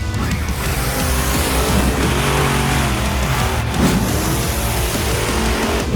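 A 12,000-pound monster truck engine roars loud and close for the whole stretch, a dense, steady revving drone with a brief surge near the middle and no voices over it.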